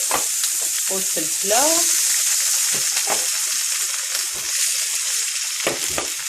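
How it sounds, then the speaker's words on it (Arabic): Onion and peppers sizzling in hot oil in a pan: a loud, steady, close frying hiss with repeated stirring scrapes, and a brief voice near the start. "دابا سخنات الزيت غادي نديروا البصله تطحر"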